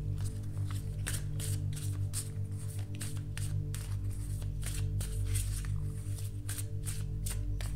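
Oracle cards being shuffled for a tarot reading: a fast, steady riffle of card edges slapping together in quick repeated strokes, close by over a low hum of background music.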